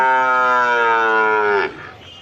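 A black cow at a rural cattle market lets out a loud, drawn-out moo that starts at once and tails off into a rough, breathy drop before fading.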